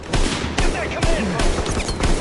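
Gunfire in the World War II shooter Call of Duty WWII, a few loud sharp shots spaced through a dense, noisy battle mix, close and forceful under a steady roar of background combat.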